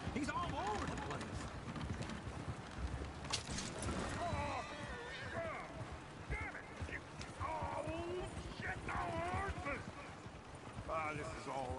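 Horse hooves clip-clop in Red Dead Redemption 2 near a coach, an irregular clatter beneath frequent talk, wind and other game sounds.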